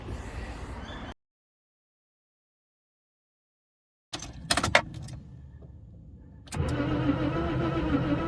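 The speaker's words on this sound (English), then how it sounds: "Why does it sound like it's missing compression on one of the cylinders?" A car engine with a cylinder missing compression cranks in uneven bursts after a brief silence, then catches into a rough, steady idle close by.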